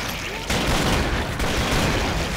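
Sustained gunfire in the video game Killing Floor, a dense, loud barrage of overlapping shots that starts abruptly and rolls on with brief dips, no talking over it.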